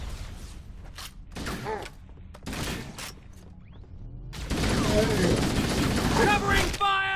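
Automatic gunfire in the Halo video game, bursts of shots separated by short gaps, building into a loud, continuous fusillade near the end amid a busy battle.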